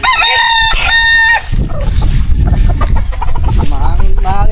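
A rooster crows loudly up close, followed by chickens clucking and fowl calls over steady outdoor background noise.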